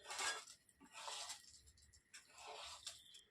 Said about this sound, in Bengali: খুন্তি দিয়ে নাড়াচাড়া করে একবার মিশিয়ে নিই